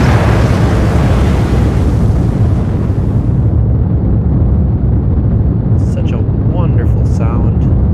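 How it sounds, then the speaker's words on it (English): Powerful rocket engines roar in Kerbal Space Program during a launch, a loud, dense, continuous rumble that holds steady throughout, with faint beeps and chirps appearing near the end. "Wonderful sound, nice powerful rockets."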